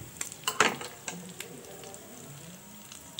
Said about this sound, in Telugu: ఇలా లో ఫ్లేమ్లోనే ఫ్రై చేసుకుందాం.